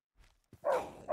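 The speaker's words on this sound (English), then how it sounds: "Jeez, I can hear the dogs way over here." Dogs bark in the Minecraft video game, with a faint yip followed by two louder close barks in quick succession, nothing else heard.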